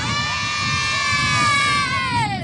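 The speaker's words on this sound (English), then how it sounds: "Can I get one big cheer real quick?" A crowd at the Blitz Border Bowl football game lets out one big sustained cheer, with a loud voice gliding high above a close, noisy mass of shouts.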